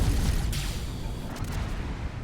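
Low, rumbling impacts and muffled blasts as a spaceship takes fire in a space video game, a dense booming barrage that stays loud throughout the short moment.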